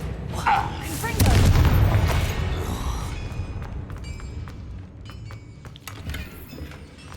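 A Confringo blasting spell from Hogwarts Legacy goes off in a loud, close boom with a rumbling tail, followed by lighter crackling effects and in-game background sound.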